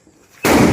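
A Diwali firecracker bursts in a single sudden, loud bang after a quiet lead-in, the blast filling the short moment at close range.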